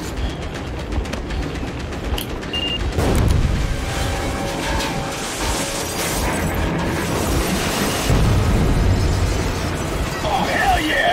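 Train exploding in the Metro Exodus game: a continuous heavy rumble with a sharp boom near the three-second mark, then rolling blasts and debris building toward the end, loud and close, with talk mixed in.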